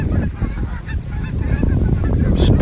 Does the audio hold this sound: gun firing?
no